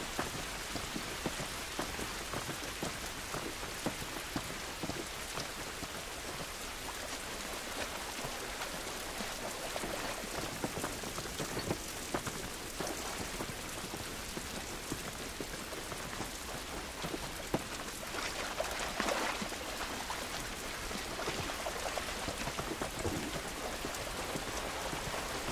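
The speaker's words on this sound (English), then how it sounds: "This rain ain't gonna do us any good." Steady outdoor rainfall in the video game The Last of Us, a dense, even hiss of drops on surfaces that runs unbroken throughout, with no talk over it.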